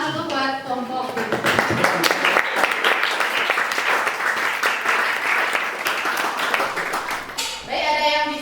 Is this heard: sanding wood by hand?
no